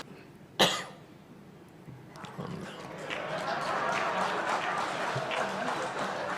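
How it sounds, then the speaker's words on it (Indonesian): A man's single sharp cough cuts through an indoor setting during a formal speech, followed by a rising murmur of an audience and scattered clapping. "Saya batuk tadi"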